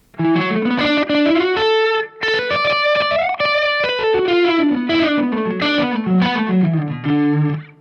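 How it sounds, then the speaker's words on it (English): An electric guitar plays a melodic line through a distortion pedal and a TC Electronic Mimiq doubler pedal, each note followed by a very short slapback echo that thickens the sound. "Kind of sounds a little bit like a really short slapback echo."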